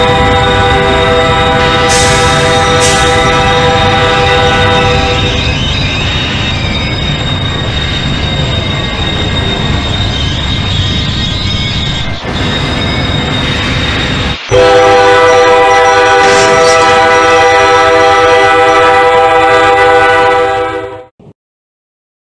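Train on the tracks moving with a loud, sustained horn blaring nearly throughout, strong rumbling and screeching braking underneath, then a sharp thud near the end before the sound cuts off.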